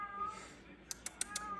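A cat meows faintly several times in a home setting, with a few short sharp clicks toward the end and low background noise.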